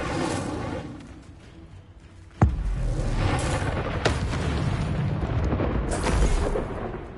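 A fire spell bursts into a sudden loud explosion during a fight against poachers in Hogwarts Legacy, a sharp impact followed by a sustained roaring, crackling rumble with smaller pops layered on top.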